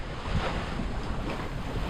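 Sailboat passing Diamond Rock off Martinique, bound for Sainte-Anne, with steady wind rushing across the microphone and waves washing against the hull, a continuous broadband roar without pause.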